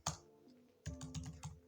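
Quiet clicking of a computer keyboard as text is typed into a coding editor: one isolated keystroke, then a quick run of five or six even taps close up.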